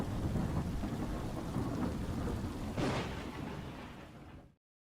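Thunderstorm sound effect with steady heavy rain hissing throughout, a low rumble of thunder swelling near the middle, then the storm fading and cutting to silence.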